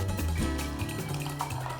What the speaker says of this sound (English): I'm going to pour you a cup of coffee